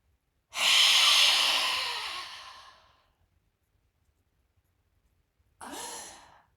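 Deep breathing exercise: one long, loud, close breath lasting about two seconds that tapers off, then silence, then another breath beginning, with no talking.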